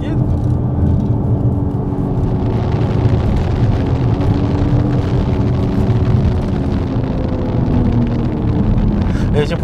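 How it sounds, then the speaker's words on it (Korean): A BMW X4 M40i LCI with M Performance exhaust, accelerating hard in Sport mode and popping on low-speed gear shifts, gives a loud, continuous engine roar mixed with wind noise, with brief crackles near the end. "초반 속도 영역에서 변속이 됐을 때 그때 이제 배기에서 팍 이렇게 터지는"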